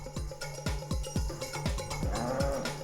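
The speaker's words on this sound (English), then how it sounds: "Meet the world-famous Charolais cattle." Charolais beef cattle mooing at a village cattle market in Burgundy, France: a rapid run of repeated low calls from several animals, loud and close, with a faint bell-like ring in the background.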